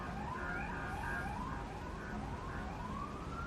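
A wailing siren rises and falls repeatedly, heard from a distance through steady background hum, fairly faint and continuous.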